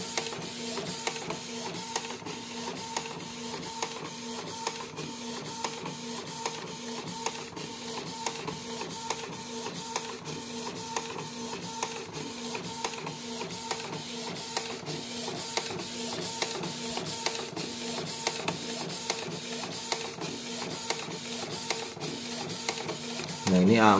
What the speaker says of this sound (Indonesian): Kita hanya menggunakan printer Canon biasa dan tentu saja kita modif